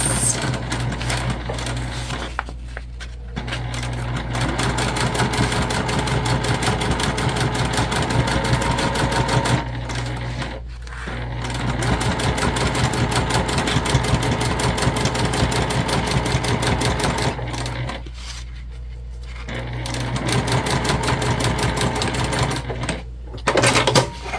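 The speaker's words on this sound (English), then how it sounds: "we're going to go ahead and stitch on the open edges" A sewing machine stitches the open edges of a fabric crossbody bag in long, steady whirring runs. The runs are broken by a few short pauses, with the motor's rapid needle rhythm loud and close.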